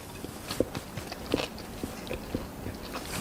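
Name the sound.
biting into crunchy chickpea and tuna salad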